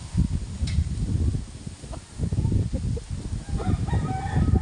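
Chickens clucking and squawking close by, with rough crowing bursts over a busy rustling background.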